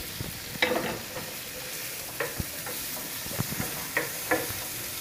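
Sausages sizzling in butter with diced onion and garlic, a soft steady frying hiss with occasional scrapes and clicks of stirring, no voices over it.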